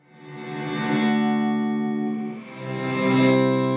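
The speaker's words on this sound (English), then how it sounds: "now I can play through the reverb" Guitar played through a fully wet reverb with no dry signal, sustained chords blooming in a washy, lingering tail that fades, then swells again with a second strum.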